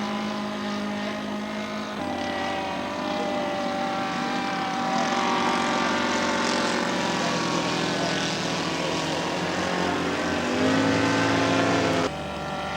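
Several near-identical scale model propeller airplanes drone overhead together, a layered buzzing engine whine that shifts in pitch as they pass, fairly loud and continuous with no speech.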